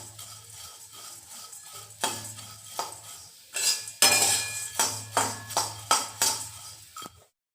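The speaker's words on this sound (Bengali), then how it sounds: "এখন সন্ধ্যাবেলায় ছেলেকে একটু চিড়া আর বাদাম ভেজে দিচ্ছি।" Flattened rice and peanuts being fried and stirred in a pan for an evening snack, with repeated scraping and clinking strokes of a utensil against the metal over a low sizzling background hum, close and moderately loud.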